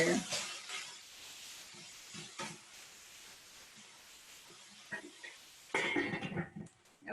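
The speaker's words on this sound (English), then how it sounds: "Let's just give it a little bit of a stir here." Thai chicken and vegetables are stirred in a pan, giving a soft sizzle with occasional scrapes and a louder burst of stirring near the end, close but fairly quiet, with brief bits of talk.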